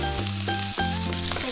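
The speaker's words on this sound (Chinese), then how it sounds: "锅里油温热了之后，把配菜放下来翻炒" Side vegetables for a beef stir-fry hit hot oil in a wok and sizzle loudly and continuously, with a steady tonal hum running underneath.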